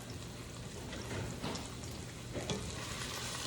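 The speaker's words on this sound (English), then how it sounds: "we've got onions and peppers going down here" Onions and peppers stir frying in a pan for meal prep, a steady close sizzle with occasional stirring scrapes and clatters throughout, no talking.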